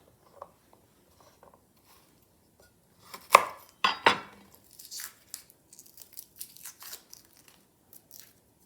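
A knife slices through a garlic clove on a cutting board, giving a few sharp, close chopping taps followed by softer scattered cuts, with no talking.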